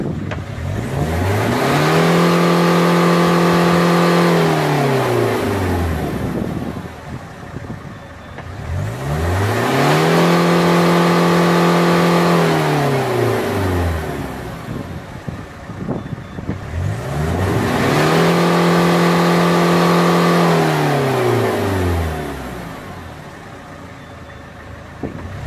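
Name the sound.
BMW E36 diesel engine revving at full throttle during smoke test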